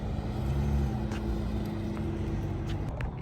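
A BMW 335i E92 creeps slowly under parked trailers, its engine giving a steady low idle-level rumble close by throughout, no talking.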